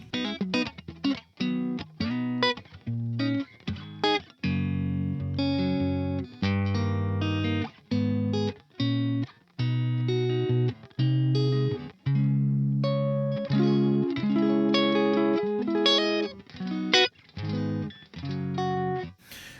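A dry, distorted electric guitar, a modded SG Classic, plays chords and riffs with no reverb and sharp stops between phrases, loud and upfront with no lingering tail.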